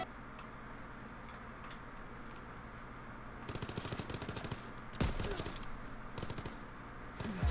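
Rapid bursts of machine pistol fire in a video game, quiet, ticking volleys coming in several short strings over steady background game noise.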